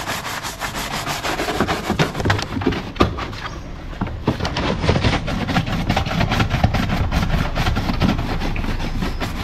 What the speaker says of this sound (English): These tire brushes are very handy.